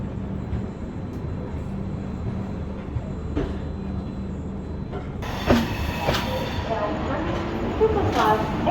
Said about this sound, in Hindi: Superfast Express is arriving shortly on platform number 3.